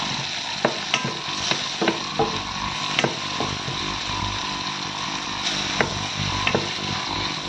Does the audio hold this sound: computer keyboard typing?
no